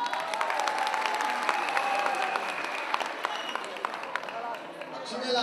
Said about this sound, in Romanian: Corect, să-i aplaudăm!